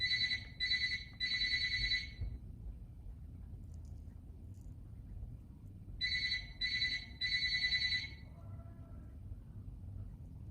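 A phone rings in repeated bursts of electronic trills, two groups of rapid pulses separated by a pause, over steady low background hum in a room.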